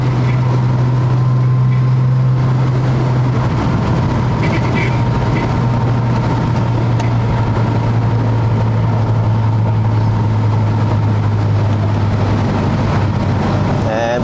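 A Datsun 240Z runs parade laps of the Albert Park Grand Prix circuit in Melbourne, its engine a loud, continuous close-up drone that drops in pitch early on as it shifts up a gear, with talk over it.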